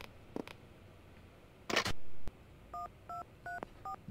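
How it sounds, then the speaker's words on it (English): A telephone keypad beeps out a short run of dialing tones in the PS1 game Clock Tower, five or six clean, evenly spaced beeps after a brief clatter, heard clearly over a low game hum. "Let's use the phone again."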